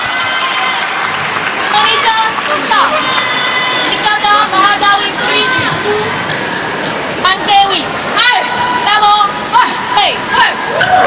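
A loud, vociferous home crowd at a SEA Games women's team badminton semi-final cheers and shouts for Malaysia against Indonesia, a dense roar with rhythmic chanting and claps that fills the hall, while a commentator speaks over it.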